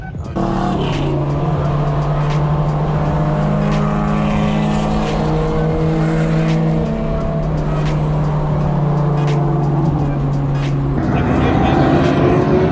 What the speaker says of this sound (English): I'm gonna put my car on cruise control at 85 and just let it do its thing